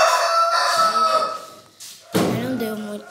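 A rooster crows loudly and close, a long drawn-out call, then a hen clucks and another crow bursts in, set in a backyard with chickens laying eggs.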